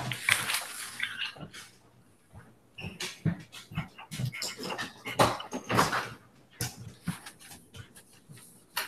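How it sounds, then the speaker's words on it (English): A dog indoors lets out repeated close, loud barks and whimpers in irregular bursts, with a few thuds like a door or cupboard in between. "Oh, there's my dog. I forgot to put her out."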